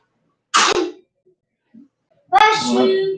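A child sneezes twice, close and loud, with a short quiet gap between the sharp bursts and a faint sniff in between.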